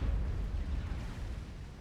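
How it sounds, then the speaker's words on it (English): A factory blows up in the Supreme Commander strategy game, a deep low rumbling boom that swells at once and slowly fades over about two seconds, heard alone. "Last factory detonates."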